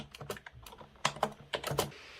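Typing on a Microsoft keyboard with rubber dome switches, heard up close as quick clusters of soft keystrokes broken by short pauses, with no talking.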